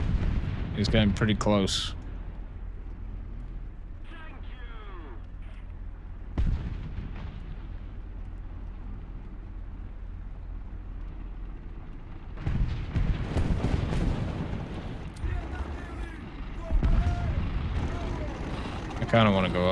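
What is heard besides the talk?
Panzer IV tank firing shells in a tank video game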